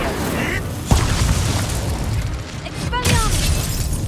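In a Harry Potter video game, an Incendio fire spell bursts with a whooshing boom, then a second blast follows, all over continuous game noise.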